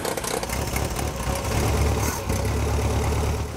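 Original Ford V4 engine in an old snowcat running after a tune-up, a steady, loud mechanical idle with a rough, knocking texture, close by and uninterrupted, with no voices over it.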